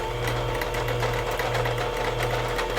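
An electric mixer whirs steadily through carrot cake batter, a constant close motor drone with a low hum and faint rhythmic beating, loud and alone for the whole stretch.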